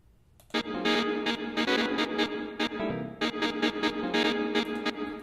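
Synthesized chord stabs from a techno track in progress, layered with effects, repeating in a rhythmic pattern of sustained bright chords with short pulses, loud and close with no voices.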